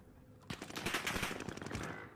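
Rapid automatic gunfire in Call of Duty Warzone, a burst of sharp, quick shots lasting about a second and a half, loud and close, with no talk over it.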